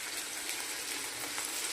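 Steady, soft sizzling hiss from fried masala in a pan as water is poured in for an omelette and taro-potato curry, an even, continuous fizz with no voices.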